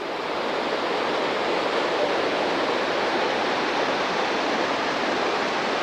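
Tower Falls in Yellowstone National Park roars as a steady, dense rush of falling water, constant and loud without any change in level, with no voices over it.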